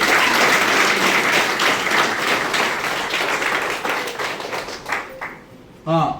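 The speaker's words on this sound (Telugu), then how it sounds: "మీరు ఒకసారి క్లాప్స్ కొడితే చెప్తాను" An audience at a business meeting claps, a dense, loud burst of many hands that fades over several seconds into scattered claps, and a voice cuts in at the end.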